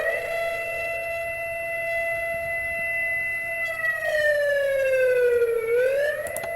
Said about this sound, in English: Sounds like a siren as well.